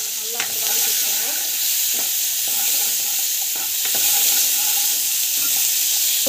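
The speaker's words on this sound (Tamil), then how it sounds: "ஆயில் நல்லா காஞ்சி பிறகு நம்ம வந்து பார்த்திங்கன்னா கடுகு, சீரகம், கொஞ்சமாக 4 கடலைப்பருப்பு, பூண்டு, வெங்காயம் நல்லா வந்து வதக்கி வச்சுக்கோங்க" Mustard seeds, cumin, chana dal, garlic and onion sauté in hot oil, giving a loud, continuous close sizzle with occasional scrapes of a spatula; nothing is said.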